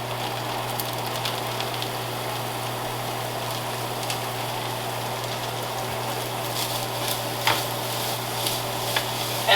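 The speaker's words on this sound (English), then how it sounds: "now I'm going to add some of the zucchini that I just made" Zucchini tossed into a pan of frying ground beef and onions for taco filling, giving a steady low sizzle with a constant hum behind it and a few soft stirring scrapes and clicks near the end.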